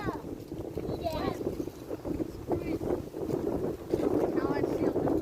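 Wind blows across the microphone on an outdoor autumn walk among trees in East Texas, a steady low rumble with gusts that swell toward the end, while people talk over it.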